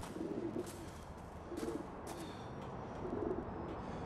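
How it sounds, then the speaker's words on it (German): Soft, repeated cooing from a pigeon in the video game GTA IV, three quiet coos spaced about a second and a half apart over a faint ambient hum, with no talking. "Eine Taube."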